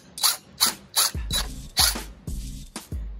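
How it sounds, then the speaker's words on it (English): A series of about eight short, sharp bursts from a drill, pulsing rhythmically as a screw is driven into a pre-drilled hole in wood, close and fairly loud. "Now, put the screw in."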